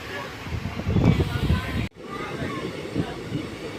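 A passenger train on the line between Chital and Lunidhar stations rolls along at steady speed, its low rumble continuous with a brief dropout midway, heard from inside the carriage.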